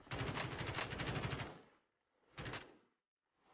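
Rapid automatic gunfire from the Warzone video game, a dense sustained burst followed by a short pause and one more brief burst, loud and close with no talking.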